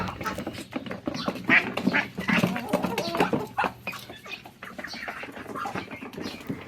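Ducks quack repeatedly and noisily close by at feeding time among chickens, a busy, overlapping chatter of calls.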